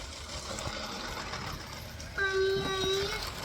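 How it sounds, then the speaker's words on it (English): A toy train runs along its track with a light mechanical whir and clatter, followed by a short high whistle-like tone near the end, close by in a room where a voice is heard. "Hey, stop the train."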